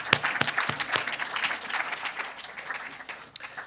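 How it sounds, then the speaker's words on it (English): An audience claps after a Kol Nidre performance, steady applause with sharp individual claps standing out throughout. "One more round of applause."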